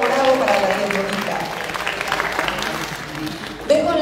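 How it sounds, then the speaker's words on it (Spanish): Guests clap together at a birthday party, a dense, steady round of applause throughout, mixed with voices talking and calling out. "Todos aplaudimos, echamos porras"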